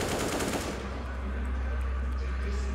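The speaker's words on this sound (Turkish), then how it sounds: "Birine headshot attım." Automatic gunfire in a tactical shooter video game: a loud, rapid burst of shots lasting under a second, followed by a steady droning game background.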